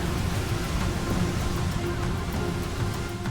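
Rain and storm noise aboard a golden king crab boat caught in an Arctic cyclone, a loud, steady wash of rain with deep rumbling underneath and no voices.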